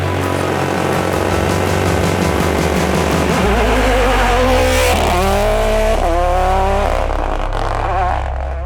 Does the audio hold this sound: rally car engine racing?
yes